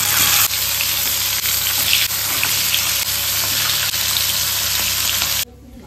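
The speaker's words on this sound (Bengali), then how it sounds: "আর এখানে আছে ওই যে শঙ্কর মাছ আর ইয়ে মাছটা, বাটা মাছটা, এই দুটো ভেজে নেবো।" Stingray and bata fish fry in a pan with a loud, steady oil sizzle and crackle, faint stirring taps along the way, cutting off abruptly near the end.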